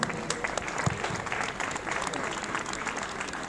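A crowd applauds during a pre-match ceremony before the Pomezia versus Unipomez football match, a steady wash of clapping with scattered sharper claps throughout, fairly distant and moderately quiet.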